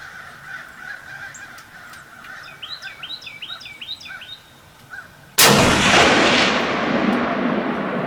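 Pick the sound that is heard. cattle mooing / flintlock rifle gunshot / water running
flintlock rifle gunshot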